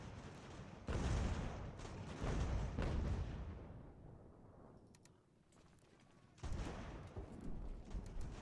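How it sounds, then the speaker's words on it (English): Artillery fire in the video game Ultimate General: American Revolution, distant booming rumbles and crackling volleys that swell, fade to a lull, then surge again, heard alone. "Now we're getting hit in the flank by this other enemy artillery piece"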